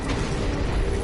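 A grenade blast in a video game fills the moment with a loud, sustained low boom and rumbling debris, heavy and continuous from start to finish.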